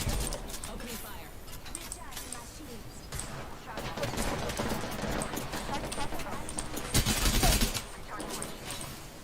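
Rapid automatic gunfire from Apex Legends during a ranked match, bursts of shots crackling across the clip with a denser, louder volley near the end, mixed with game effects and talk.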